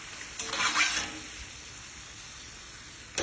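Homemade potato chips frying in hot oil: a soft, steady bubbling hiss with a few brief louder bursts near the start and at the end.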